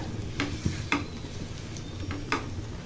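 Brinjal fritters fry in a pan with a low, steady sizzle, broken by a few sharp clicks and scrapes of a utensil turning them, and no speech.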